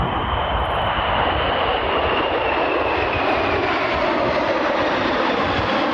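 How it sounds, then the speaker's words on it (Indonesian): A fighter jet flies past with a loud, steady roar of engine noise that fills the whole clip, its pitch sliding slowly downward. "Ini jet tempur."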